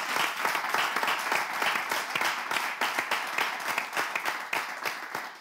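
An audience applauds at a Togolese broadcast gathering, with steady dense clapping continuing throughout, fairly close and even in loudness.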